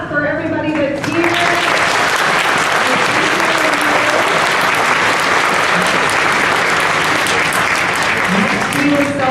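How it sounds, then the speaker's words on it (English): A school audience at a Veterans Day assembly at Mt. Zion Grade School bursts into loud, sustained applause that fills the room, with a few voices audible just before it begins. "let's clap for everybody that's here"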